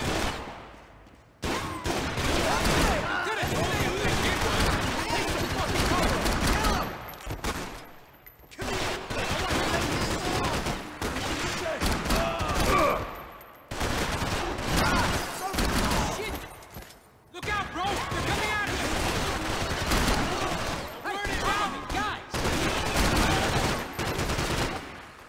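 Dense gunfire from Max Payne 3 rattles in long sustained bursts with brief lulls, loud and close, mixed with shouting voices of in-game characters.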